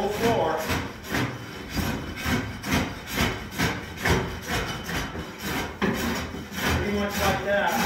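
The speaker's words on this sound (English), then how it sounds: "We're gonna scrape it with a scraper" A hand scraper pushed across a hardwood floor to strip old carpet foam, repeated rough rasping strokes in a steady back-and-forth rhythm, close and fairly loud with no talking.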